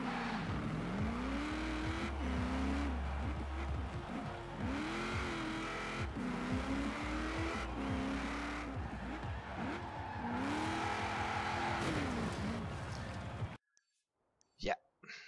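Car driving in the racing game Forza Horizon 4, a loud engine droning and revving steadily with shifting pitch and tire squeal mixed in for about thirteen seconds, then cutting off abruptly into near silence.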